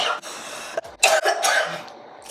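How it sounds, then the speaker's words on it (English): A person coughs after choking on their own spit: a few harsh, close coughs and throat-clearing bursts in quick succession, fading at the end. "I just choked on my spit."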